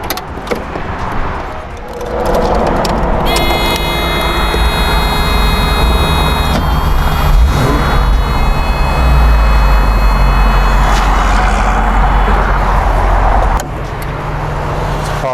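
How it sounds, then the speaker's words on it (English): A 1985 Mercedes-Benz 500SL R107 V8 with stock mufflers cranks and catches, then settles into a loud, steady idle close by, with a few faint metallic clicks along the way. "Let's go ahead and start the car up and we'll open the engine bay,"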